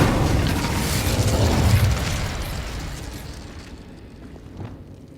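Incendio fire spell cast in the Hogwarts Legacy game, a loud roaring burst of flame that rushes out at once and then slowly fades over several seconds.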